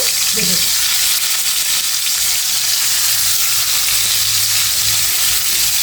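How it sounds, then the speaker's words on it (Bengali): Stinging catfish fries in oil in a frying pan, a loud, dense sizzle that crackles continuously at close range, alone without any talk. "আমি ফ্রাই প্যানে তেল দিয়ে দিয়েছি এখন আমি মাছটা সুন্দর করে ভেজে নেব"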